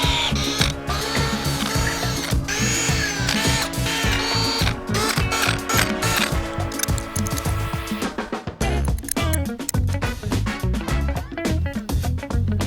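A ratchet clicks rapidly and repeatedly while tightening, a dense run of sharp metallic pawl clicks close by, speeding and slowing over several seconds under faint background noise.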